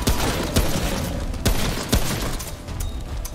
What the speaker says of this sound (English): Oh, they throw bombs!